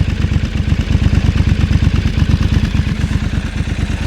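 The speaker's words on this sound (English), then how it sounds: "But stock exhaust on this, I think sounds great." A Triumph Scrambler 1200 XE with its stock exhaust idles close to the microphone, giving a steady, loud low-pitched pulsing throb with a slight clattery beat.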